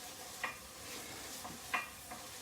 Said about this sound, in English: you can see I'm frying off the onion and no colour